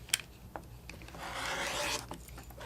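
A rotary cutter slices quilting fabric strips along a ruler, giving a faint, close scraping rub that builds and fades over a couple of seconds, with a few light taps before it and no talking.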